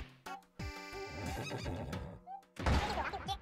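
A horse in the Miitopia video game neighs in a loud, drawn-out whinny, followed by a burst of snorting and rustling effects close up.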